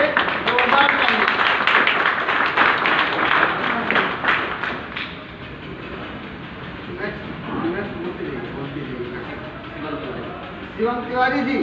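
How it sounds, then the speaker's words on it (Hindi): An audience claps at an event held at Hotel Ashok. A dense burst of clapping fills the first seconds, then thins and fades as a voice speaks over the hall. "अजय तिवारी जी के लिए जोरदार तालियां।"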